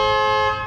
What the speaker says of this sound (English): Or honk the horn.